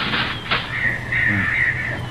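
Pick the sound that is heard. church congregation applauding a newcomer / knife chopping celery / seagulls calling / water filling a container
seagulls calling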